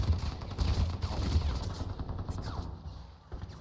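Gunfire crackles in the video game Crysis as a rapid, fairly faint burst of shots, denser at first and thinning out toward the end.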